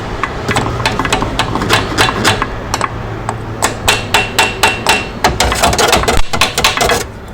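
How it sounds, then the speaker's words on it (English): A hammer taps a tail-shaft centre bearing into place in repeated sharp, ringing metal strikes, some in quick bursts and others spaced out, close and loud over a faint background hum. "then we just get a hammer and just gently make sure it's seated in properly"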